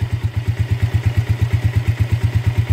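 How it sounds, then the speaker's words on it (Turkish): A Mondial 150 KT motorcycle engine idles after a valve adjustment with a loud, close, even single-cylinder thump and a light mechanical clatter, and no one speaks. "24 saat sonra tekrar kontak bastık ve motorumuz saat gibi çalışıyor"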